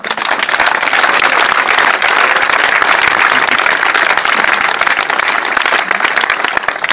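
A church congregation claps and cheers for Jesus, a loud, dense, unbroken roar of applause and voices filling the room for several seconds.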